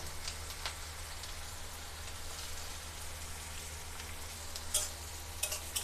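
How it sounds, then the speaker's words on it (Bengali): Chopped onions fry in hot oil with cardamom, cloves and bay leaves, a soft, steady crackling sizzle like light rain, fairly quiet, with a couple of slightly sharper clinks near the end. "আবার ওর মধ্যে দিয়ে দিলাম কুচিয়ে রাখা পেঁয়াজ"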